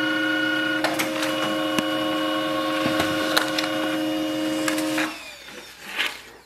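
A Pantum M6559NW laser printer copies a page, giving a steady mechanical whir with clicks and clacks of its paper feed, then winding down into softer rustling near the end.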